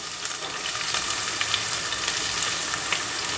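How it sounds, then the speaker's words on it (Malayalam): Green chillies sizzling in hot oil for dal tadka, a steady loud crackling fry with fine spitting pops throughout and no talk. "ഇനി നമുക്ക് ഇതിലോട്ട് നമ്മുടെ പച്ചമുളക് ഇടണം"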